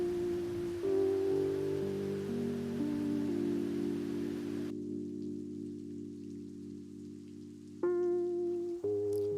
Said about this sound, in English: I love rain, so I have clicked some videos of raining also.